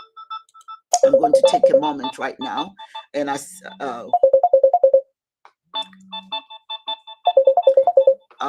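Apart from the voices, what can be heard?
phone ringtone, incoming phone call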